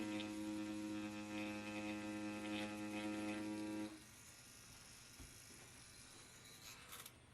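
An XNET vane tattoo machine runs while outlining, giving a steady, faint electric buzz that stops partway through, leaving quiet room noise and a small click.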